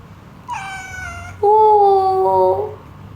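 A cat meows twice up close: a short higher cry, then a louder, longer drawn-out meow.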